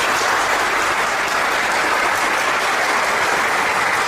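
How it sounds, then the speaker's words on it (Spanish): A dense, steady wash of audience applause greets guests from a Pentecostal ministry at a religious gathering, loud and unbroken throughout. "un aplauso para ellos"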